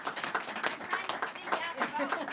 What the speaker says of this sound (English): let's give Senator Shaheen a big round of applause